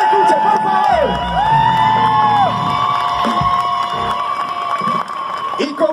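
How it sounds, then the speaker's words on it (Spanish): Outdoor crowd at a BMX freestyle exhibition in Caracas cheers, whoops and shouts loudly and continuously, with scattered applause and excited voices, children's shouts among them, all near and dense throughout. "Un aplauso, que se escuche en Tokio"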